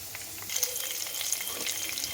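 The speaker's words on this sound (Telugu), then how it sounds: "ముందుగా పక్క తీసి పెట్టినటువంటి శనగపప్పు, మినపప్పు, ఆవాలు వీటి బాగా వేయించాలి." Chana dal, urad dal and mustard seeds frying in hot oil make a soft, continuous crackling sizzle close by, with occasional small pops and no voices.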